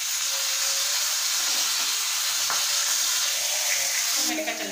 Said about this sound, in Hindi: इसको फ्राई कर लेते हैं।